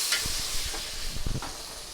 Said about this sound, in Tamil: இஞ்சி பூண்டு சேர்த்து கொஞ்சம் நல்லா பச்சை வாசனை போகிற வரைக்கும் கொஞ்சம் வதக்கிடுங்க.